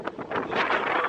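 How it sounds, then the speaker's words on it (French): Strong wind buffets the microphone in continuous loud gusts on a narrow, exposed hillside path in Bora Bora, French Polynesia, with no talk. "le vent, il est fort."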